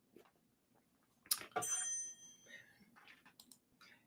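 A bright bell-like notification chime rings once with a shimmering ring-out, followed by a few faint clicks, fairly quiet and alone.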